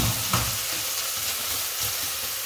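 Onion, carrot and celery frying in olive oil in a pan for a vegan lasagne, giving a steady, dense sizzle close up with a few faint stirring knocks, continuous and unbroken, with no talking.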